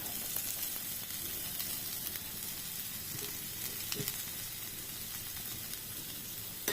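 Rohu fish pieces frying in a pan of spiced onion gravy, a constant close sizzle and hiss with occasional stirring clinks, no talk.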